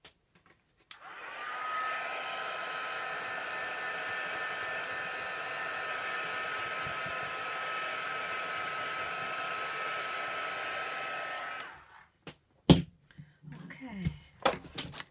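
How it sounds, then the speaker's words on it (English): A heat gun runs steadily for about ten seconds, drying Distress Oxide ink on a card, with a loud, even whoosh that starts and cuts off sharply, followed by a few clunks as it is set down. "I'm just going to pop my heat gun on it just for a second"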